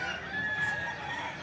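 Chickens and roosters at a Tuesday morning poultry market in Padre Garcia, Batangas, crowing and clucking at moderate volume over a steady crowded background hum, with no one speaking.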